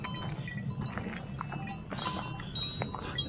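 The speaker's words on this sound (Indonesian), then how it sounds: "Di jalur pendakian banyak sapi." Village cattle grazing along the Sembalun hiking trail on Mount Rinjani, with a steady outdoor rumble and faint clinks and bell-like tones from the livestock, distant and continuous.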